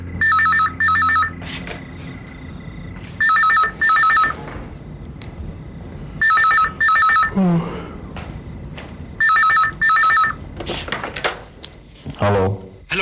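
An old-style telephone bell rings in repeated double bursts, loud and close, with pauses and faint movement sounds between the rings.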